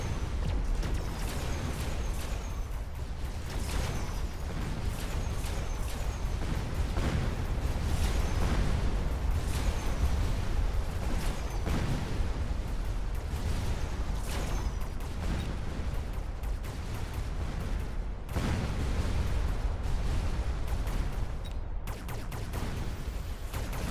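Missile explosions and artillery fire in a fort-battle video game boom and rumble continuously, with dense overlapping blasts and no talk over them.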